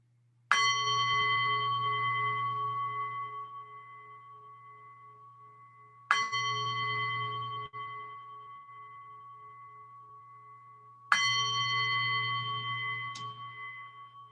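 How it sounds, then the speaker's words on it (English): Three meditation bells struck one at a time, each a clear ringing tone with bright overtones that decays slowly over about five seconds before the next strike, heard alone over a low steady hum. "we'll begin with 3 bells"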